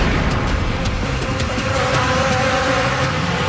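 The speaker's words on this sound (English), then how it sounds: "they dump thousands more bees down his pants" A dense swarm of bees, tens of pounds piled on a man's body during a world-record attempt, produces a continuous loud buzzing drone that stays steady throughout with no talking.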